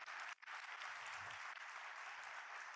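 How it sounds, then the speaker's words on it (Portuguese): Steady, dense applause from a crowd at the opening panels of Festival FALA! 2023 fills the whole stretch, with a brief dip near the start before clapping resumes evenly. "Eu queria que vocês já começassem aplaudindo o Boris"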